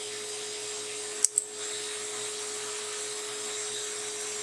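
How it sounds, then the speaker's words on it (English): A dental lab handpiece with a small burr trims and ditches a die, giving a faint, steady high whine throughout, with two quick clicks near the start. "Now we can go with even a smaller burr."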